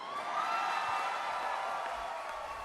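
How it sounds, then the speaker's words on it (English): A crowd cheers and whoops in a played recording, a bright steady roar of many voices lasting a few seconds, slightly distant and thin. "They cheer."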